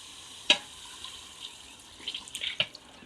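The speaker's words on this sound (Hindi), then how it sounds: "तो अब जो है ना मैं इसमें लगाऊंगी पानी" Water poured into a pan of frying curry in a home kitchen, a faint splash and sizzle with a couple of short bursts and soft clatter, quiet and close with no talk.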